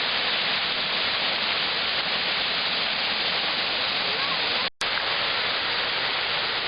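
Constant rushing roar of a waterfall about 10 metres wide and 3.5 to 4 metres high, dense and steady, with one brief dropout near the end.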